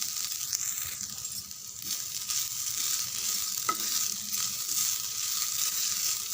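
Grated coconut frying in ghee over moderate heat for rava laddu, a steady close sizzle with soft stirring scrapes and occasional crackles throughout, no one talking.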